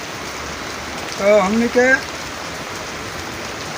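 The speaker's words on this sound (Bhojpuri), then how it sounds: "बारिश बरसता पूरा समय रहता, बरखा बरसता ही रही" Rain falls steadily in Delhi, a soft even wash of patter and trickling water in the background while someone speaks briefly over it.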